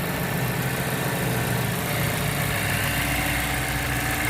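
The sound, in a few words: car engine idling smoothly after misfire fixed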